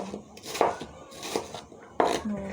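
Onions being chopped on a board in a home kitchen: a few irregular knife strikes, close and moderately loud, with faint background noise and no clear talk.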